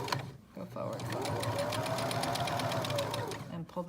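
A sewing machine stitches a drawstring bag seam, its fast needle clatter running continuously and close for several seconds; a voice speaks briefly at the start.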